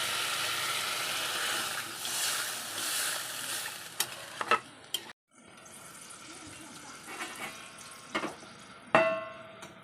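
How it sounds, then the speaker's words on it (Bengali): Water splashes into a pan of sizzling spices for aloo fulkopir dalna, a loud frying hiss that drops out briefly mid-way, then resumes with stirring clatters and a few sharp utensil knocks. "এখন আমি দিয়ে দেবো মশলা ধোয়া একটু সামান্য পরিমাণ জল এখানে দিয়ে"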